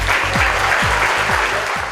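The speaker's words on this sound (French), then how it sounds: "Et j'appelle sans tarder l'homme de la soirée, Pierre Sajous, sous vos applaudissements." Loud, dense applause from the audience greets Pierre Sajous at the inauguration of his workshop-boutique in Bossens, a steady unbroken wash of clapping throughout.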